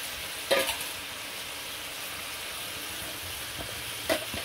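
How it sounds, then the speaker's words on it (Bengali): Shing fish going into a spice paste that fries in a pan, with a steady, close sizzle throughout and two brief splattering bursts, one near the start and one near the end. "মশলাটা কষিয়ে নিয়ে মাছ দিয়ে দিই"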